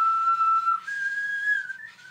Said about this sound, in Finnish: erilaisten pillien pimputtelu